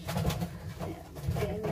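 Pigeon cooing close by, a few soft throaty coos repeating across a short stretch while birds are handled for canker treatment in nest boxes.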